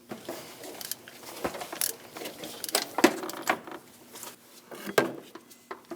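A 24mm socket works the crank pulley bolt on a Chevrolet Express, giving scattered metallic clicks, clanks and scrapes in irregular bursts, close and moderately loud, with no talk.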